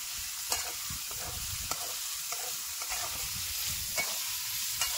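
Onion and tomato frying in oil with salt and spices, a steady hissing sizzle with soft periodic stirring scrapes and taps of a spoon, fairly quiet and close, with no talking.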